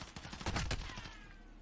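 An AK rifle fires a short burst of rapid shots in a Call of Duty MW tournament match, loud and close, fading out after about a second.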